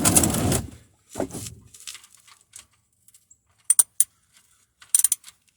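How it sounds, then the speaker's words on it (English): A wrench turns a fastener in reverse during a Ford Focus oil change, with a brief scrape and then quiet, close metallic clicks and ratcheting ticks in small clusters. "then I'll put the wrench on it and reverse it in the opposite direction"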